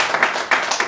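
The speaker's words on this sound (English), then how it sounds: "clap, clap." Audience members clap at a livestream event for the Chance for Life program, producing a few quick, scattered claps in under a second, fairly close and moderately loud.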